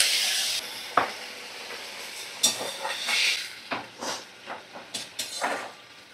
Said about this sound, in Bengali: দেখো আমি 1 কাপ জল দিয়ে দিলাম।